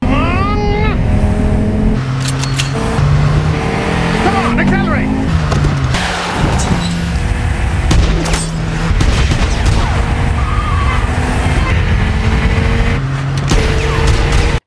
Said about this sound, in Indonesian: terjadilah aksi kejar-kejaran plus tembak-menembak yang seru di